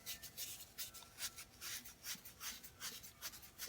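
An old smoking pipe is scuffed by hand to strip its wax, giving close, rhythmic rasping strokes of roughly a dozen quick rubs with no talk.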